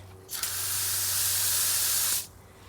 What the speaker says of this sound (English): Try not to spray the leaves directly, especially when it's sunny, because it can burn.